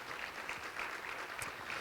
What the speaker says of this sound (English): Let's give applause for that.